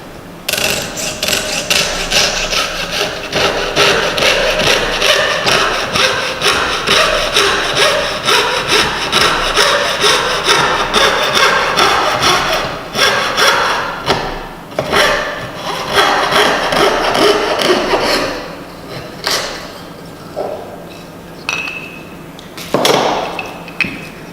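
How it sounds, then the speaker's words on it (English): A coarse-bladed hand saw cuts through soft casting material in rapid, loud back-and-forth rasping strokes, steady for most of the stretch before slowing into a few separate final strokes. "So I've got a saw here with quite a coarse blade in it, because it's quite a soft material."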